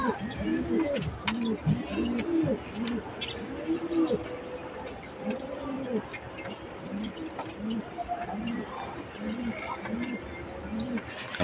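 Pigeons at a breeding loft coo in repeated low, rounded phrases, steady and close, with other birds chirping faintly through the background.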